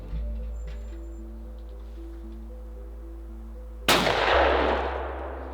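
A single loud shotgun blast at a clay shooting practice, sharp and close, following a steady low hum and tonal background, with the report decaying over about a second.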